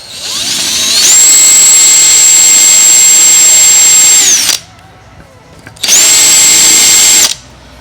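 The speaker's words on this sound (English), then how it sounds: "we're going to use a countersink bit, and we're going to countersink this little bit right here" Power drill with a countersink bit cutting into fiberglass on a supercar body build, loud high whine in two bursts with a brief pause between, close and alone.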